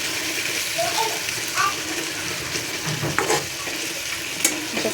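Drumstick pods frying in a pan for a dry drumstick vegetable dish, heard as a close, steady sizzle broken by scraping and stirring scuffs from a utensil.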